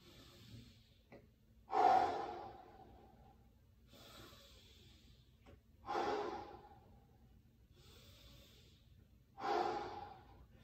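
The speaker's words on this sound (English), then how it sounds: "I'm breathing with each exhale." Slow, deep breathing during a forward-fold stretch, with three strong, close exhales spaced about four seconds apart and quiet pauses between them. No one speaks.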